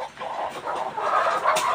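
A flock of about 90 chickens on a farm cluck and murmur together in a steady, busy chorus, close by, with a slightly louder squawk near the end.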